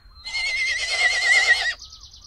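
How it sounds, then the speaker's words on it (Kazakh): A horse whinnies once, a loud shrill neigh lasting over a second, near and alone against quiet background. "тай"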